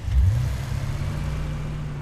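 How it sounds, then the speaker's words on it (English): A video game vehicle engine revs up at the start, then holds a steady, loud, low hum, close and alone. "The engine on this sounds pretty good"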